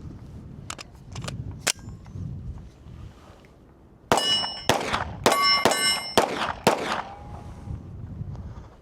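Walther PDP pistol shots ringing off steel targets: a sparse sequence of sharp cracks with bright metallic clangs, a few isolated early, then a quicker cluster of loud hits, fairly close.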